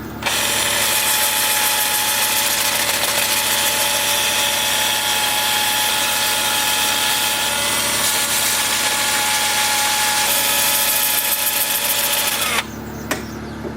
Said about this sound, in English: Still sanding in reverse.